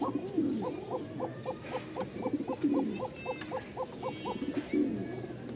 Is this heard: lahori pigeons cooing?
yes